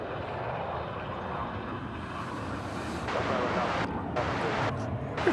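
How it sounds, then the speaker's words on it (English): American Airlines flight arriving at Dallas/Fort Worth Airport, a loud continuous roar of jet engines building as the aircraft nears, with wind-like rushing and some background noise. "Here comes American Airlines Flight 2369 from Spokane, Washington"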